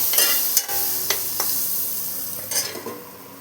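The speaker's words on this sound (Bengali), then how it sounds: "হলুদ দিয়ে আর একটু হালকা করে ভেজে নেব।" Onion and chilli sizzle in a pan as turmeric goes in, with a steady frying hiss and a few sharp scrapes and stirs of a spoon against the pan, close and moderately loud, no talking.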